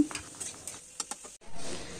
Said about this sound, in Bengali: আর এখানে আমি থোড় ভাজা করতে বসিয়ে দিয়েছি।